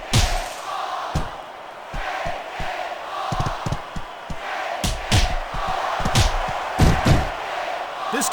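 A capacity crowd at a wrestling arena cheers and roars through a match, a steady wash of noise broken by loud slams and thuds from the ring, with commentary voices over it.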